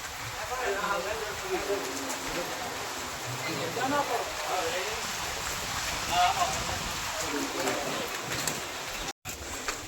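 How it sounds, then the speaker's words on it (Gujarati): Heavy rain at the Tulsishyam temple in Gir forest, a steady dense hiss that fills the whole stretch, with voices talking beneath it. "બહુ જ વરસાદ છે."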